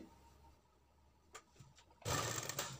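A sewing machine stitches piping onto a sleeve: after a quiet stretch with a few faint clicks, the motor kicks in and runs loud and close in a fast, steady whir to the end.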